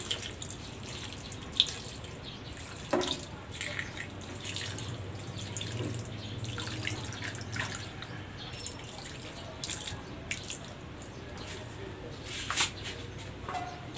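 Water runs and splashes into a pot of paksiw na bangus (milkfish) in a home kitchen, a soft uneven trickle with drips and small clinks, fairly quiet throughout.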